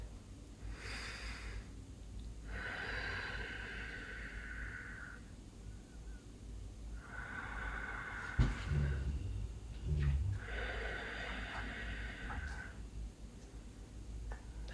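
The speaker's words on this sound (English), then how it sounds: "join me in taking a couple nice deep breaths before we get started" Slow, deep breaths are drawn in and let out close to the microphone, several long inhales and exhales with pauses between them in a quiet room.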